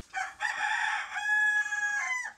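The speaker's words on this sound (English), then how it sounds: "This breed that Nawaya is trying to re-establish is the Bigawi chicken" A Bigawi rooster, an indigenous chicken breed, crows one long cock-a-doodle-doo close by and loud, the call rising through a few short bursts into a sustained held note that trails off abruptly, with no voices.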